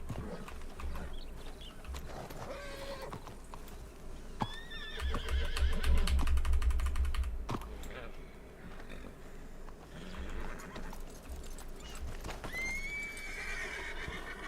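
A horse neighs and whinnies several times over steady clip-clopping hooves, with a louder rumbling burst midway and game-like sound effects.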